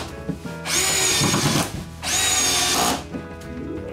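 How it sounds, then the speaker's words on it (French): Two bursts of a power drill driving screws into a TV wall mount at a chalet, each lasting about a second, loud and close with a whirring motor whine and short pauses between them. "je mets toutes les autres vis."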